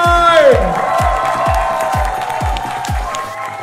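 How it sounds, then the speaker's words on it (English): An audience applauds and cheers at the Mister International 2023 preliminary pageant during the swimsuit competition, a loud continuous crowd roar under an amplified voice and a steady thumping beat. "please, a big round of applause one more time!"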